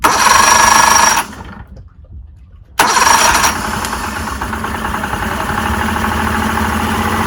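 An outboard boat engine runs steadily at a low, even idle, briefly cutting out into near silence before catching again and settling into a constant hum.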